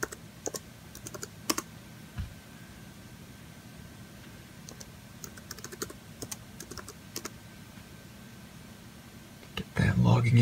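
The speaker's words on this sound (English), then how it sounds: "let me go ahead and enter the password here" A password is typed on a MacBook Pro keyboard as scattered, quiet key clicks in an irregular rhythm over a low background hum, ending with a louder burst.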